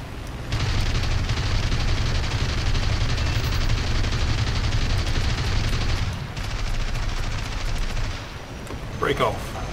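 Sustained aircraft cannon and machine-gun fire from a Messerschmitt Bf 109 F-4 in War Thunder, a dense continuous burst lasting several seconds before breaking off, followed by a brief short tone.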